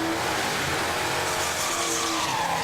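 A big block Ford drag race car making its pass down the strip, a loud continuous roar with a tire-squeal edge that holds steady, heard from nearby with no voices.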